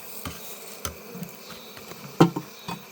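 Honey bees from a swarm buzz around the entrance of a horizontal Layens hive, with faint scattered buzzes and a few louder close fly-bys over a quiet outdoor background.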